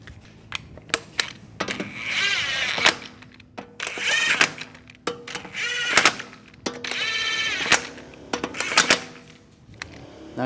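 Metallic clicking and ratcheting as lug nuts are threaded onto the wheel studs of a 2004-2010 BMW X3 during a strut replacement, with repeated rapid bursts of clattering, close and fairly loud, and no talking.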